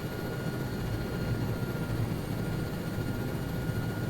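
An aircraft flying over in the video game Arma 3 S.O.G., a continuous rumbling engine drone with a steady low roar and no talking.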